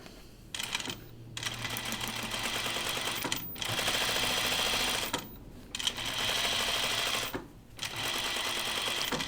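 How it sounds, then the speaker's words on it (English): A sewing machine back stitching at the shoulder seam of a shift dress, running in steady bursts of rapid stitching separated by short pauses, close and fairly loud, with no talking. "I'm gonna put my back stitch at my shoulder."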